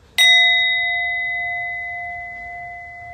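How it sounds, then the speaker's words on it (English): A singing bowl is struck once and rings out with a bright, clear metallic tone that sustains and slowly fades over several seconds, heard alone without voices. "Like when I use my beautiful singing bowl, and I'm going to learn to make it sing"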